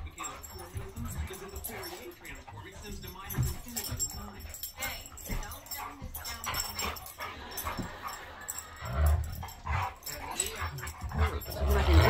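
Two wild dogs play together, giving repeated whimpers, yips and scuffling sounds close by, while people talk quietly in the background.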